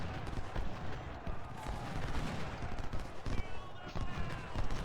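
Cannons firing canister shot in the Civil War strategy game Ultimate General: Civil War, a dense, continuous rumble of overlapping booms and crackling fire at mid distance, with voices talking over the barrage.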